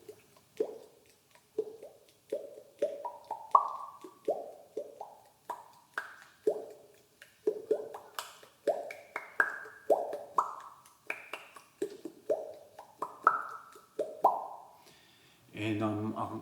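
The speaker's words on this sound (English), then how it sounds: "we're just plucking with my fingers there to make the drops of water in the ngahere" Taonga puoro plucked with the fingers against a mouth resonator, giving a long run of hollow, pitched plops like falling water drops, each gliding in pitch, close and clear, with a short breathy sound at the end.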